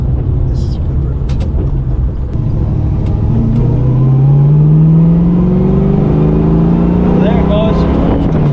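A 1971 Ford Mustang convertible fitted with a rear end from a '79 Lincoln accelerates hard on an open road, its engine note climbing loud and close, with wind rush and a voice over it.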